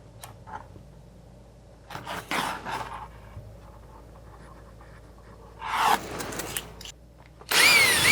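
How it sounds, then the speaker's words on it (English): Power drill with a hole saw bursts cutting through RV material, three separate runs of whirring and grinding with quiet pauses between, fairly close. "with a hole saw, drill each hole."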